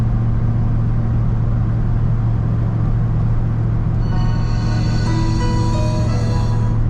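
A 1980 Chevrolet K10 Silverado 4x4 pickup on new tires cruises along a road, giving a steady low rumble and tire hum. Faint music-like tones rise in over the last few seconds.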